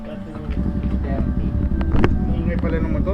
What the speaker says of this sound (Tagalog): Ingay pala ng motor.